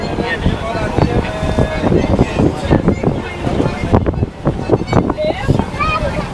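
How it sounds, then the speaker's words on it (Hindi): Boats race across the water at Dubai Marina, heard from aboard a yacht at a birthday celebration: a loud, steady rush of engines and water mixed with wind buffeting the microphone, with people talking over it. "ये तो गाइस बोट्स की जो है ना रेस लग चुकी है"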